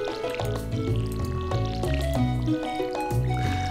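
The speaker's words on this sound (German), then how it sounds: "Aber erstmal gießen wir gemütlich unsere Blumen." Flowers are watered in the farming game Stardew Valley: soft watery splashes and pouring sounds repeat over cheerful background game music with a steady plucked melody.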